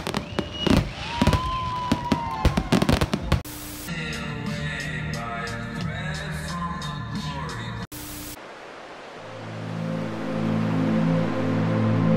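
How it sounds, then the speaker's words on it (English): Fireworks show exploding over South Padre, a run of sharp bursts and crackles for the first few seconds, then a sustained loud rumble and hiss with ringing tones as the display continues. "And we're gonna watch the fireworks show."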